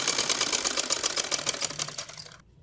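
A sewing machine stitching a kameez runs close and fast, with an even, rapid mechanical clatter that slows and stops after about two and a half seconds, with no voices over it.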